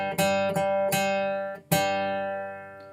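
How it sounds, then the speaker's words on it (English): Fingerpicked guitar playing the opening of Down to the River to Pray in G, four plucked notes and chords ringing out close and clear, the last one sustaining and fading. "So down to the river to pray sounds like this."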